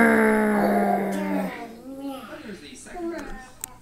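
A child growls angrily in imitation while singing a song about being mad, giving a sustained voiced growl that breaks into wavering, rising and falling vocal sounds, loud and close.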